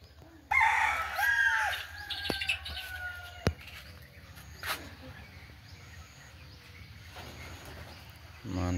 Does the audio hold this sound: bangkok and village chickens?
yes